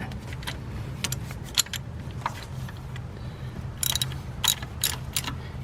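Ratchet clicking in short bursts while snugging water pump bolts on a GM 3.5L V6, such as an 2006–2011 Chevrolet Impala, in an engine bay, over a low steady background hum.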